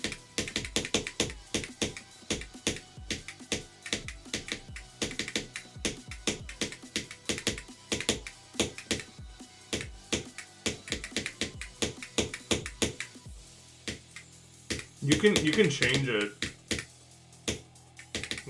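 Typing on a computer keyboard with adjustable actuation, a rapid run of sharp, close key clicks in uneven bursts, with a dense flurry of fast strokes near the end and a few brief spoken words mixed in.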